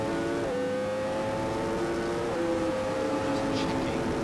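Race motorbikes at a 2017 MSBK championship race bomb past a trackside commentary box, a steady loud engine roar with shifting whining tones as machines pass by, some faint distant noise underneath.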